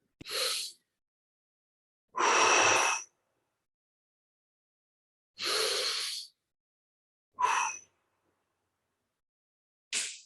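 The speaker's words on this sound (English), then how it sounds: "Breathe conscious to your belly, deep." Five deep, forceful breaths during a breathwork exercise, each a loud rushing inhale or exhale lasting under a second to about a second, separated by silent gaps, close and alone with no talking.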